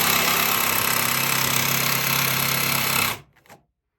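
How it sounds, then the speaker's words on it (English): Jigsaw blade cutting with oscillating action close to the edge of a board, a loud steady buzzing rattle for about three seconds that stops abruptly, followed by a brief faint clatter. "we'll make a cut with that oscillating part, and we'll take a look and see what it looks like up here"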